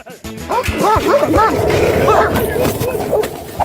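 A dog yips and barks in quick repeated bursts, loud and close, with whimpering sounds and background voices mixed underneath.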